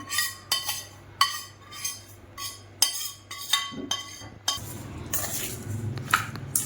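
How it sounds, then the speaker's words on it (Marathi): Cooled homemade masala being mixed into raw mango pickle, with a spoon clinking and scraping against a metal or glass bowl in a rhythmic series of sharp knocks, close and clear without speech. "चांगलं मिक्स करून घ्यायचं याला."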